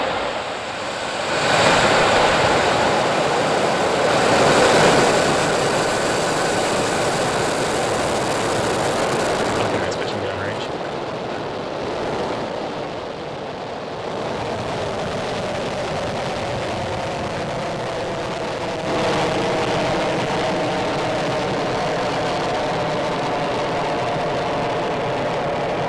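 A SpaceX Falcon 9 rocket's engines ignite at a Starlink launch, a loud, broad roar that swells and rumbles on at a distance for the full stretch, with no voices.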